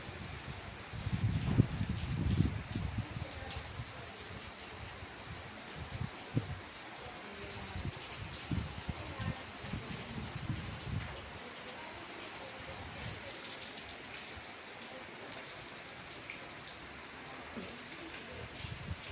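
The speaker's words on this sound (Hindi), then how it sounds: "बहुत तेज़ बारिश हो रही," Heavy rain pours in a steady, dense hiss that swells louder early on and then holds at a moderate level, with some low rumbling.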